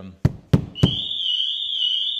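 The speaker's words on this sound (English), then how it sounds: "shock sensor, as you can see, that triggers the alarm system off" On a Cupra Formentor fitted with a Pandora Smart Pro system, three sharp knocks on the body trip the shock sensor, and a loud, continuous high-pitched alarm tone follows right after and holds steady.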